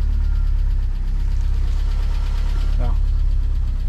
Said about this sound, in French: une Delta n'a pas besoin d'accélérer pour démarrer. Elle doit démarrer toute seule.